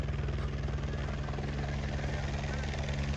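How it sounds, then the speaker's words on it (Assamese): A helicopter flies near Kedarnath, its loud rotor thumping in a rapid, even beat under a steady engine drone, with people talking over it. "wow helicopter"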